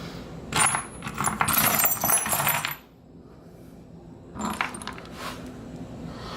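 A hand rummages through a bin of metal bolts during a BMW E36 coilover install, producing two bursts of busy metallic clinking and jangling separated by a quiet pause.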